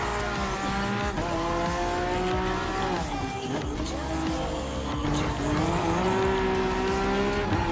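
Race car engine from Gran Turismo Sport, a Peugeot Vision with an MR drivetrain, holding a steady high rev, with a sustained whine rising slightly and loud throughout, along with faint tire squeal.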